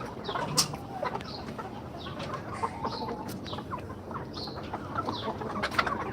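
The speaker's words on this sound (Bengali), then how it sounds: "এই হচ্ছে সেই টাইগার মুরগির খামার" Tiger chickens at a poultry farm cluck and call in scattered, faint bursts over a low hum of farm background noise.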